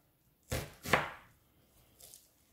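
A knife chops through an onion on a cutting board in a few crisp strokes, two close sharp cuts followed by a fainter third, in a quiet kitchen.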